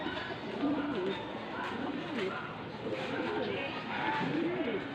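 Racing pigeons cooing at a loft during a race return, repeated soft low coos from several birds layered over one another, steady and fairly close, with faint background voices.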